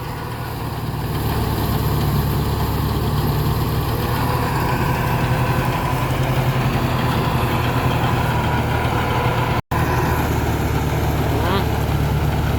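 A tractor engine idles steadily at a rice threshing site, a continuous low droning hum that stays loud throughout and drops out for a moment near the end, with faint voices in the background.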